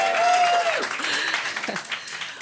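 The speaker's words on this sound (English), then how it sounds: "Let's give ourselves a round of applause." A morning awards-event crowd at the Edinburgh Fringe claps briefly but loudly, the dense wash of applause tapering into scattered claps within a couple of seconds, with a voice and some tonal noise mixed in at the start.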